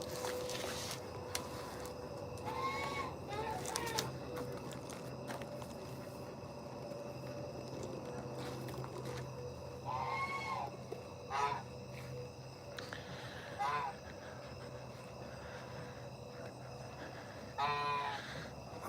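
Backyard geese and ducks at feeding time let out a few scattered honks and calls over a steady low hum. The calls are faint to moderate, spaced several seconds apart, and nobody speaks.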